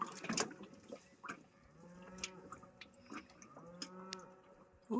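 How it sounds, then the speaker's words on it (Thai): Two drawn-out cow moos carry across open air from a cattle farm across a lake, each a low wavering bellow, with a few faint bird chirps in the background in the evening. "เสียงวัว"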